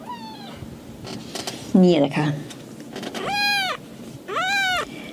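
A former stray cat gives several clear, drawn-out meows close by, with someone speaking briefly between them.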